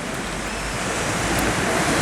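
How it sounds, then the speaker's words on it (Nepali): Strong typhoon wind under storm signal 8 roars along with churning sea waves in Hong Kong, a continuous broadband rush that stays loud and steady without voices. "अहिले चाहिँ लोकल स्तरको स्थानीय हावाको वेग चाहिँ तपाईको तीव्र हुँदै गइरहेको"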